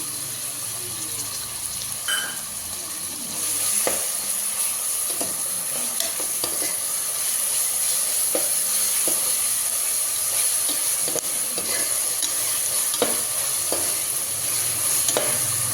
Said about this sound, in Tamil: இதில் இஞ்சி பூண்டு பேஸ்ட்டும் போட்டுடலாம்